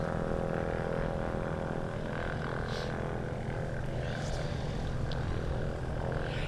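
Engines of the Nimrod XV232 jet aircraft running at full power at Coventry Airport, a steady, loud, continuous roar and whine filling the whole clip with no break.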